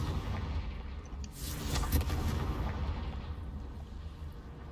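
A Confringo explosive spell goes off in the Hogwarts Legacy video game, a loud booming burst that swells midway and then fades into a rumbling tail.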